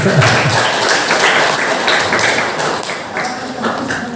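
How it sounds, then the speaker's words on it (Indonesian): An audience breaks into applause, a dense sustained patter of clapping that stays loud and close for several seconds before thinning slightly toward the end. "Tepuk tangan dulu."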